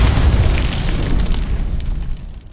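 A Confringo spell explodes in the Hogwarts Legacy video game, a loud, close, rumbling blast that starts at full force and slowly fades over a couple of seconds.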